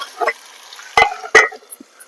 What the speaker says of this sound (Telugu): ఇప్పుడు కలుపుతున్నాం కదా